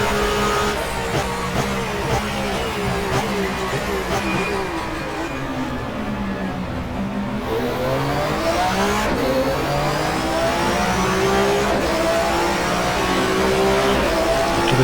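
Touring car engine in the GTR2 racing game at the Avus circuit, a loud continuous roar that rises and falls through gear changes and braking into the hairpin, with faint tyre squeal.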